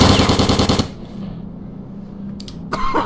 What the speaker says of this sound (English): I see these guys are sticking with submachine guns.